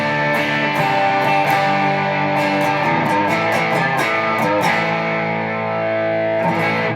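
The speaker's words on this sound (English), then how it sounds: "here's how the pedal sounds with everything at 12 o'clock" Electric guitar through a TC Electronic Dark Matter distortion pedal with every knob at 12 o'clock, loud saturated chords and picked notes ringing continuously, with sharp rhythmic pick attacks.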